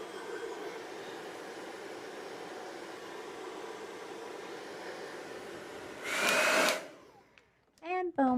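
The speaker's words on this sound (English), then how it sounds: "I just take my blow dryer and I just kind of train those fibers to go back just like that" Blow dryer roaring steadily while styling the fibers of a wig hairline, a continuous airy whoosh with a brief louder gust near the end before switching off.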